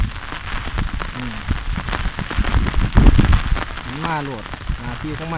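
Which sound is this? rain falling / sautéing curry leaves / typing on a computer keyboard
rain falling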